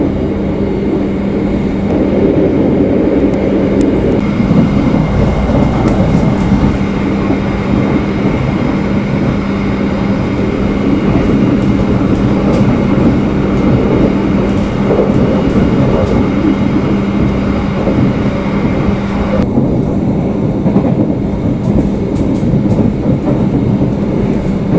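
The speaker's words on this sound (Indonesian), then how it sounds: "Keretanya bablas terus." An economy-class passenger train running nonstop past small-town stations on the Bandung–Surabaya route, a loud, steady interior rumble with faint rhythmic clatter of wheels throughout.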